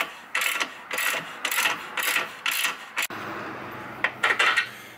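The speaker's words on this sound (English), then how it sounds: "I'm just using my socket here, loosen this up, bolt will come out" A socket wrench loosens a 17mm bolt on an Infiniti G37 suspension cradle, giving several quick ratcheting bursts in an uneven rhythm, close and clear, with a short clack partway through.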